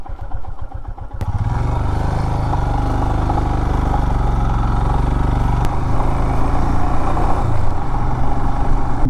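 A motorcycle engine labors loudly and close up while climbing a rough road toward a remote tribal village in Karbi Anglong, Assam, a steady throbbing drone that strains harder toward the end.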